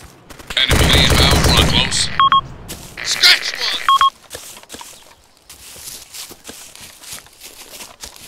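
Machine gun fire in the ARMA 2 Operation Arrowhead video game, loud bursts of rapid automatic shots with beeping interface tones, a voice speaking over part of the firing and scattered quieter shots afterward.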